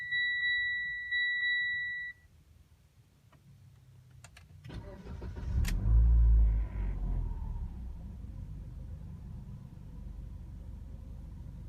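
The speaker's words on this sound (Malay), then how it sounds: "dan start enjin balik." A Mitsubishi Lancer GT engine cranks and fires up after an oil service, preceded by a few dashboard chimes, then settles into a steady low idle close by.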